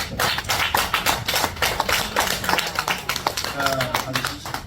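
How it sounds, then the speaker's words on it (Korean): A church congregation claps in a loose, uneven rhythm of distinct hand strikes, with voices talking over it. "박수 한번 해주세요."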